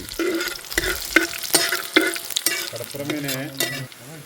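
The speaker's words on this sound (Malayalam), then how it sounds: "കുരു കളഞ്ഞ വറ്റൽമുളകാണ് ചിന്താമണിക്ക് സ്പെഷ്യൽ ഐറ്റം നന്നായി ഇളക്കി എടുക്കണം കേട്ടോ" Deseeded dried red chillies are stirred in a hot pan for chicken chinthamani, with a rhythmic series of sharp scraping strokes over a crisp sizzle, loud and close, followed by a brief tonal squeak.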